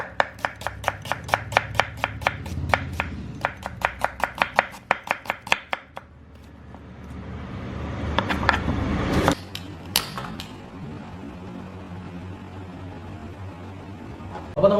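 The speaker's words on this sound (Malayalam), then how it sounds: "ഇതുപോലെ ബാക്കിയുള്ള സവാള കൂടി ഒന്ന് കട്ട് ചെയ്തെടുക്കട്ടെ." A knife chops onions for Anglo-Indian pork vindaloo, striking the board in a quick, even run of sharp close knocks for about six seconds, followed by quieter shuffling and scraping.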